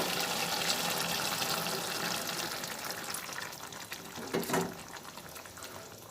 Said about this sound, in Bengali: এরপরে আরেকটু জল দিয়ে নেব